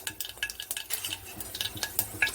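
Mustard and fenugreek seeds stirred in hot oil with a ladle while making South Indian sambhar, with quick scraping and clinking stirs against the pan over a faint sizzle, close and fairly quiet.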